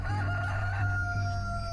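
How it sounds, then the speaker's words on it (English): A rooster crows once in a sustained call over a steady low background hum, with no talking. "Immediately a rooster crowed."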